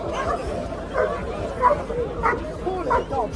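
Police dogs barking and yipping in a series of short, evenly spaced bursts at moderate distance, with people talking over them.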